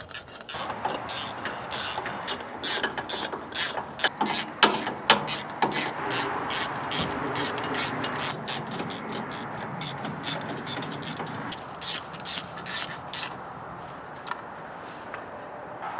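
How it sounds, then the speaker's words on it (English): Repeated ratcheting clicks from a torque wrench tightening valve cover bolts on a 2008 Polaris RZR 800, close up and crisp, coming in quick bursts with short pauses between strokes. "I got my torque wrench set to 85 inch-pounds."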